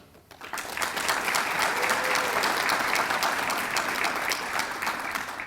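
A crowd applauds Hall of Fame honorees at an induction ceremony, the clapping swelling quickly after a brief quiet start and holding steady and loud before tapering slightly at the end.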